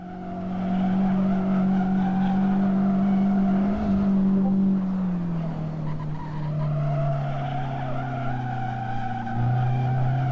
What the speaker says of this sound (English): It's always so sketchy when the two outside wheels hit the dirt